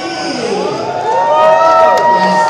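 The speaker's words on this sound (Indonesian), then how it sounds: "Tepuk tangan untuk RFDC." A crowd at a fashion event in a mall cheers and shouts in a sustained, swelling roar of voices, loud and close, with no distinct clapping standing out.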